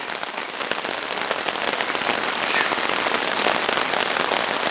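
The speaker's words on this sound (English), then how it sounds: "It is just pouring off the tarp." Heavy rain drums hard on a tarp in the woods at night, a dense, loud, continuous patter that builds slightly as it goes, with no voices.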